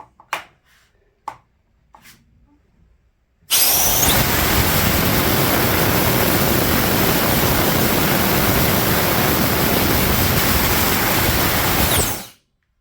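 Compressed air at 150 psi bursts through a 1/2 inch hose during an impact wrench air flow test. After a few faint clicks it becomes a sudden loud, steady full-band hiss that lasts about nine seconds, then cuts off abruptly.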